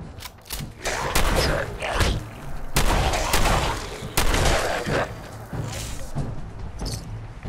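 Loud, repeated gunshots in Fallout 4 video game combat, sharp booming blasts fired in irregular succession with rumbling echoes between them, close and dominant with no talk.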